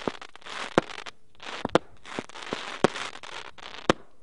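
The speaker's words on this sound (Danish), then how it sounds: "for en gang skyld har de lavet flot fyrværkeri" Fireworks display, a steady crackling hiss punctuated by sharp, irregular bangs and pops, some loud and close, repeating throughout.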